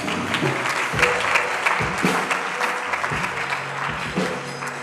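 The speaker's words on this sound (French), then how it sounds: "Est-ce qu'on peut acclamer cette bonne parole, s'il vous plaît?" Church congregation applauding a sermon, with steady clapping from many hands filling the room, loud and continuous, with faint background voices.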